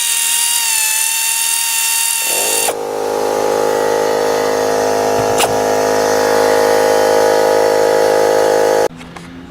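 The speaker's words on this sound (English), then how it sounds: "The air compressor cycled back on when the pressure went down" An air compressor in a home garage kicks on and runs with a loud, steady motor drone and mechanical whine, its hum holding constant for several seconds before cutting off abruptly near the end.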